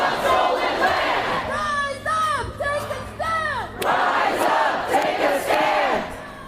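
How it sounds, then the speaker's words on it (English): A massive protest crowd chants in rising and falling waves, with loud shouted voices carrying over a dense roar of many people, outdoors at the site where a woman was killed by federal agents. "Massive crowd chants and continues to grow"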